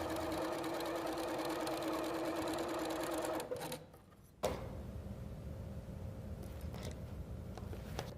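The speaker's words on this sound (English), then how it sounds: "we're going to go back to the machine and again sew on both sides of the line our standard seam allowance" A sewing machine stitches a seam along a drawn line, whirring steadily and close for several seconds, pausing briefly, then starting up again.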